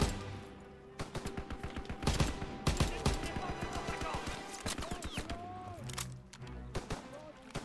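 Rapid gunfire fills a Call of Duty WW2 battle, with bursts of automatic shots and single cracks repeating near and loud throughout, while someone talks over them.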